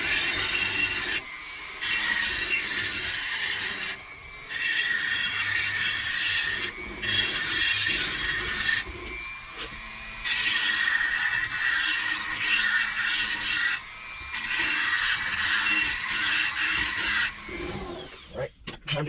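A Dasa 1100 powervalve cylinder with a 10mm stroker bore is honed, giving a steady, close abrasive rasping that runs in long bursts with short pauses between them, with no talk over it.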